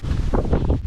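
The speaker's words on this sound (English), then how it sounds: "Oh man, the wind's picking up." Strong wind blows across a lake during kayak fishing, buffeting the microphone in a loud low rumble with gusty swells over a short moment, no voices.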